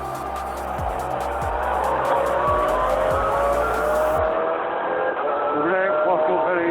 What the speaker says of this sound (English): The brake locked up very easily.